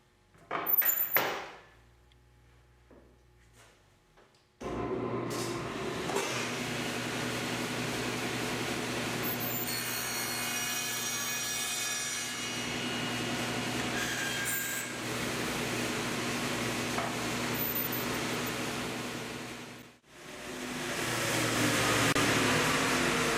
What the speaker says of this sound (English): But we'll cut that shoulder on the table saw,